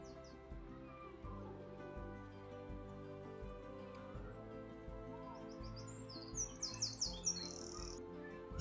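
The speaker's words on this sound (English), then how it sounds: "The sound of the birds is always just so joyful when out in the garden." Birds sing and chirp in a garden with apple and almond trees, scattered bright calls that are faint to moderate. They sit over a low background hum and grow busier toward the end.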